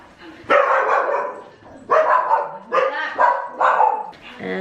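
Several dogs bark in loud bursts, about four distinct volleys spread across a few seconds, with yips mixed in, close and clear, indoors at a home in America.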